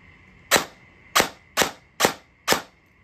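An airsoft gun powered by an Ovonic 7.4v 1500 mAh 50C LiPo battery fires five sharp, close cracks at an irregular pace, each a short snap with quick decay.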